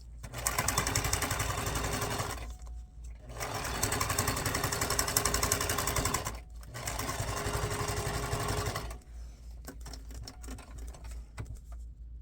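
A sewing machine stitches paper and fabric scraps into snippet roll strips, running in three long continuous bursts of steady mechanical whirring separated by brief pauses, then quieter fabric handling at the end.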